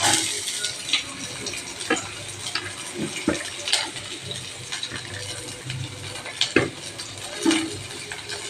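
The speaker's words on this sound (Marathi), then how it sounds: "आता आपण त्याच्यात टाकणार आहोत कांदा." Onion tipped into a hot pan of oil with sautéed chilli and garlic, then stirred, for a Marathi-style leftover chapati breakfast dish; scattered scrapes and clinks of a spatula ride over a low, steady sizzle, with faint talk underneath.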